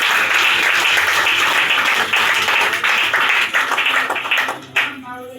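A church congregation applauding to acclaim the Lord, steady dense clapping that fills the room and stays loud throughout, fading slightly at the very end, with a voice faintly underneath.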